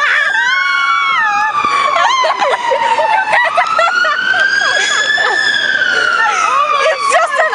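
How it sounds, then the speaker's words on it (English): An ambulance siren wails loudly on a Dublin street, its pitch sweeping slowly down and up while people shout and talk over it nearby. "It's just an ambulance, Jana."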